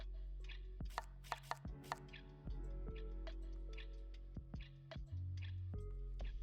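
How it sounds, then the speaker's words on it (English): Food gets chopped at a pizza station in the cooking game Pizza Restaurant Together, a run of quick, sharp knife taps in uneven bursts over thudding game sounds, fairly faint with no talking. "See, I gotta do my prepping and chopping."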